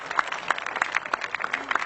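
An audience at a Hindi poetry recital claps in a dense burst of close, crisp applause lasting a couple of seconds.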